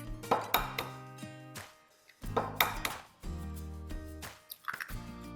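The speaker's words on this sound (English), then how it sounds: "Next we're going to add in our eggs." Eggs are added to banana bread batter in a bowl, giving soft wet plops and drips followed by a few light clinks of utensils against the bowl, close and quiet, with no talking.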